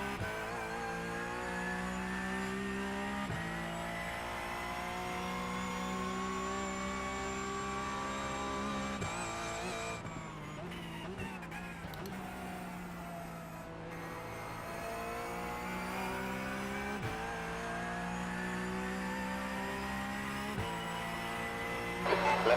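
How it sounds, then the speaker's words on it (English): A race car runs on the Nürburgring as a faster-class car closes in and passes. A steady, close engine drone repeatedly shifts pitch through gear changes, with a noisy surge around the middle as the other car goes by. "There's a faster class car approaching."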